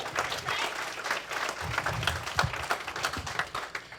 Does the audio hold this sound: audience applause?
yes